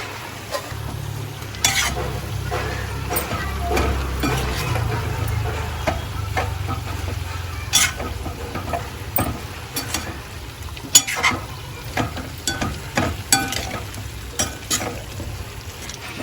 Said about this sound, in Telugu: కలిపేసి మూత పెడదామండి